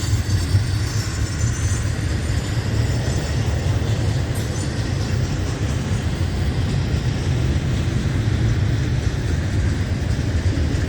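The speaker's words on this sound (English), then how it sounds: "this train is going into the siding" A freight train rolls slowly into a siding, its wheels and cars rumbling steadily and loudly nearby with a faint squeal of wheels, unbroken for the whole stretch.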